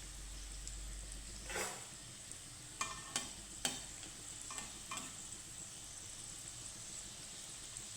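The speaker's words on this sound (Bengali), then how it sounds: "তো এটাকে একদম লো ফ্লেমে ভাজতে হবে" Crisp snack frying in hot oil over a low flame, a soft steady sizzle with a few brief clinks or stirring scrapes, close and fairly quiet.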